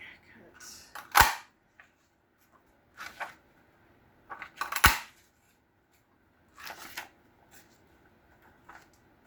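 Scissors snip through three layered paper pages during a folded-flower craft, giving a few sharp, close cuts spaced apart with rustling paper handling between them.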